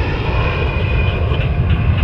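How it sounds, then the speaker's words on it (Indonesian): A loud, steady airplane engine roars overhead, a continuous, close drone with a high whine layered over a broad low rumble and no break over two seconds. "Urang ketinggalan pesawat tuh, terus hibar di luhur."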